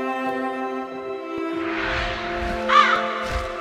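A crow caws in the watercolor-world video game Lona: Realm of Colors, a couple of distinct calls standing out over a sustained tonal music bed, with no speech.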